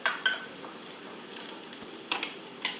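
Smoky seasoned ingredients with a pinch of salt are mixed in a bowl, giving a few soft clinks and scrapes over a quiet, steady background.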